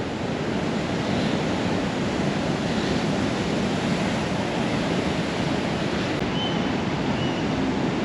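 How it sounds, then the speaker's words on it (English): Big ocean waves during a king tide on the Oregon coast, pounding rock ledges and a seawall around a narrow channel; a continuous loud roar of surf and wind with no break. "you're just gonna want to sit down and watch the big giant waves"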